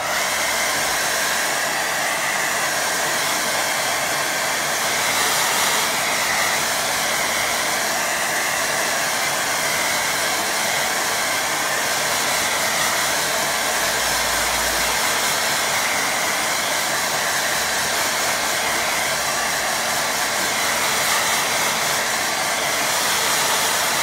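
A hair dryer blowing steadily over a watercolour painting of rocky hills, a loud continuous whooshing drone that holds level throughout with no speech.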